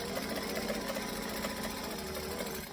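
A sewing machine runs steadily through a bag seam in a fabric tutorial, its fast, even stitching rhythm continuous and close but low in level, with no voices.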